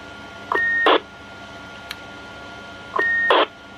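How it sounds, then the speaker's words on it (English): Two short electronic roger beep tones from a 40-year-old CB radio, each a quick chirp followed by a burst of static, spaced a couple of seconds apart, clear and close. "Now you know I love a Roger beep."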